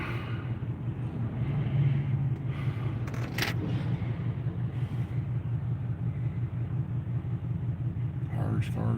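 Traffic on a small-town business street in Etowah, Tennessee, heard from inside a vehicle as a steady low engine rumble with passing cars, a brief sharper swish partway through, and someone talking over it.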